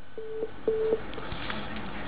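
Telephone busy tone on a dropped call-in line to a live Hindi health phone-in show, a few short beeps fairly faint over a hissy, muffled line with no one speaking.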